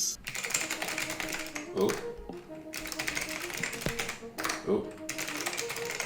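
Rapid, clicky keystrokes from a computer keyboard rattle on in dense bursts, with brief pauses between runs, close and fairly loud, while a voice makes short exclamations over the typing.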